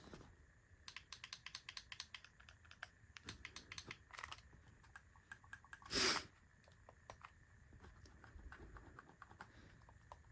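Rapid, crisp button clicks from a KingKong 2 Pro and an Xbox Series X controller, pressed in quick irregular bursts up close, with a brief louder rustle partway through.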